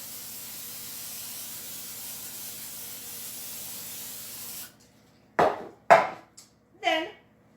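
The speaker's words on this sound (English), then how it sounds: "you want to spray your bundt pan to make sure it doesn't stick" Cooking spray hisses into a bundt pan in three short, close bursts after a stretch of low background noise.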